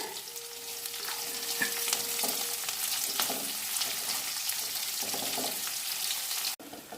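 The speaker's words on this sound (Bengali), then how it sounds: "পেঁয়াজটাকেও ভালো করে ভেজে নিতে হবে, একটু লালচে করে ভাজতে হবে" Chopped onions frying in a pan for aloo dum, a dense continuous sizzle with stirring and scraping running steadily throughout, close and fairly loud, before cutting off sharply near the end.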